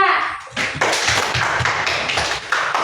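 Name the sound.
classroom applause for group 2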